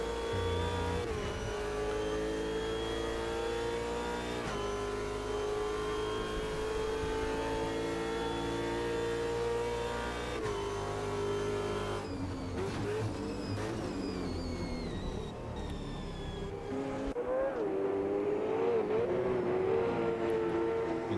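V8 Supercars race cars roar past during a round at Curitiba, engines droning loudly and continuously with rising and falling revs as several cars run close together, no voices over them.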